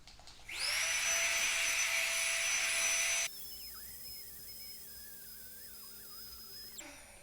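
A Flextailgear Tiny Pump inflates a sleeping mat with a loud, close, high-pitched electric whine that starts abruptly, then drops to a lower, strained, wavering hum as the mat fills, before cutting off.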